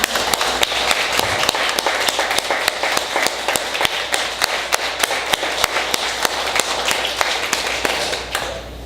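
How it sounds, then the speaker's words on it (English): An audience at a Songs for Soldiers event gives veterans a round of applause, with sharp rhythmic claps standing out above a steady wash of clapping throughout. "Can we give them a round of applause?"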